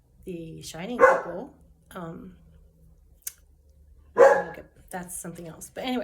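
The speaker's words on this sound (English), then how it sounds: "That was my dog barking." A dog barks indoors, two short loud outbursts separated by a few seconds, heard between stretches of a person talking nearby.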